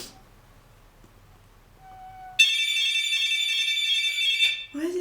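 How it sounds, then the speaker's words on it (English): A loud, steady electronic alarm tone sounds abruptly when a test button is pressed in an old fort, holding for about two seconds before cutting off, preceded by faint quiet room noise. "It's like test alarm or something."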